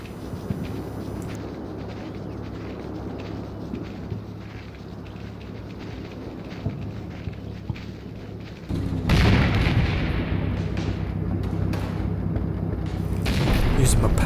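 Panzer IV tanks shelling a villa in the Combat Mission wargame, Normandy/Italy 1943 setting: continuous rumbling artillery booms and distant gunfire, growing louder and denser midway, with speech audible over the barrage.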